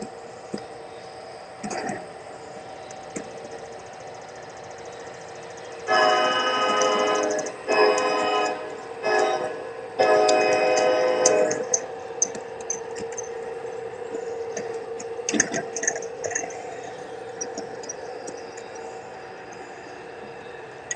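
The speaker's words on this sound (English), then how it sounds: "as the train disappears off down the track again" A Bachmann large scale model train runs along its track, a soft mechanical rolling with clicking wheel-joint ticks and a louder stretch of whirring in the middle before it fades away.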